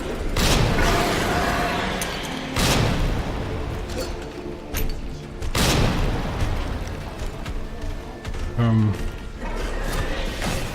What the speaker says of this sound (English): I'm gonna use grenades now.